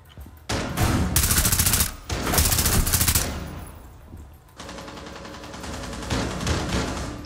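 Shotgun blasts ring out in the tactical shooter Rainbow Six Siege: loud, dense bursts of gunfire come in several close volleys, then fade into a quieter stretch before another round of shots.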